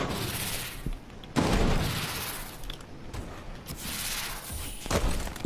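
Sniper gunfire and other shots in an online shooter video game, with sharp loud cracks and booming thuds over dense ongoing battle noise and hiss, several blasts across a few seconds.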